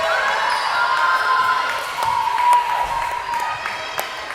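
Volleyball team bench and home crowd erupting in cheers at a varsity girls' match, a sustained bright roar of voices with a few sharp claps and thuds, steady and loud throughout.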